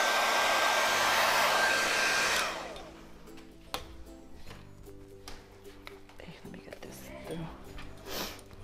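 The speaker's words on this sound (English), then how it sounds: "then you get a blow dryer" A blow dryer runs loud and steady on a child's spica cast for a couple of seconds, then cuts off, leaving soft handling taps, rustles and quiet whispering voices.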